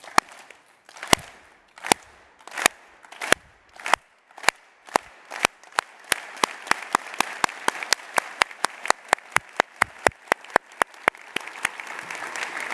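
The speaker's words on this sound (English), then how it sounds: "You start slapping slowly in unison, and then you start to pick up speed and end up clapping fast." A university convocation crowd claps in unison, starting with slow, widely spaced loud claps that steadily quicken into a rapid, dense rhythm, with faint crowd noise between beats.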